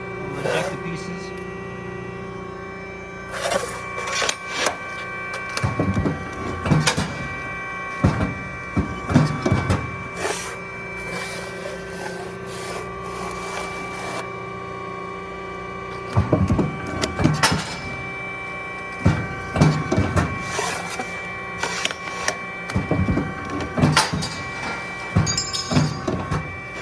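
An Amada CSHW 220 corner radius notcher ejects cut pieces down a rear chute, with a constant mechanical hum broken by repeated sharp clunks and clatters, while someone talks over it.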